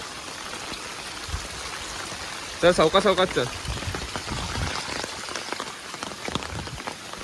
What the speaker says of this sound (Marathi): पाऊस थांबत नाही दोन दीड दोन तास झाले पाऊस थांबत नाही